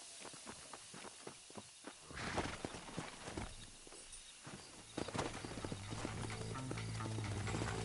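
Horse hooves clip-clop in a steady walking rhythm within a video game, close and moderately loud, with sustained low tones joining partway through.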